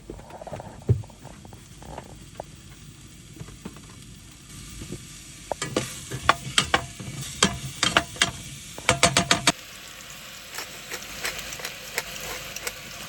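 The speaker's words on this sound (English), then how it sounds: "We're frying off the onion." Onion fries in a pan with soft sizzling, broken by clattering utensil taps and scraping stirs, with a steady faint background hum.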